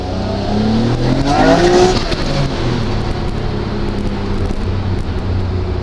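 A turbocharged Nissan Skyline R32 GT-R engine with its boost turned up revs hard and climbs in pitch as it accelerates, with tires squealing, then settles into a loud, steady drone.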